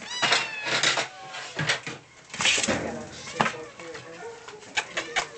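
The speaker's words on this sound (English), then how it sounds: "Hey, Mama Cat" A mother cat meows indoors, several short cries scattered among clatter and handling noises, with a person talking over them.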